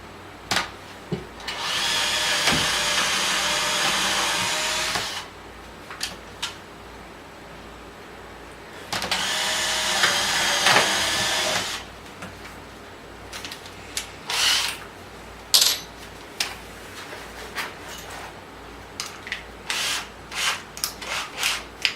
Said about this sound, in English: I'm just going to drill that hole and run those screws.